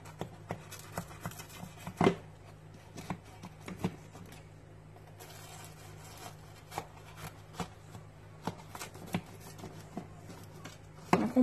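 Knife cutting through a baked puff pastry pie fresh from the oven: a run of quiet, crisp crackling taps and flaky crunches, close up, irregular rhythm, with a couple of sharper breaks and no talking.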